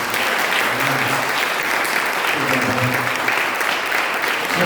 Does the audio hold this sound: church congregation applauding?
yes